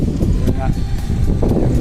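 Gusty wind rumbles against the microphone in uneven bursts, with a voice speaking briefly beneath the noise.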